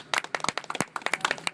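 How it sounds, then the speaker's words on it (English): Brief scattered clapping from a small group at a public meeting, quick uneven claps lasting just over a second, fairly close. "yes, I will give you applause"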